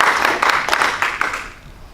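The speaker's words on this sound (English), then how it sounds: "Give a round of applause." Audience round of applause at a goal-planning talk, a loud, close spatter of many hands clapping that holds strong for over a second, then thins and fades away toward the end.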